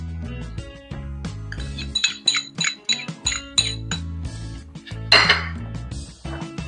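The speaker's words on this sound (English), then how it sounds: "in this container I am adding the onion, and this is the chopped green chili" Chopped onion and green chili tipped into a metal container for an Instant Pot black chickpea curry, giving a run of sharp metallic clinks and clatters over a steady tonal background, fairly close and moderately loud.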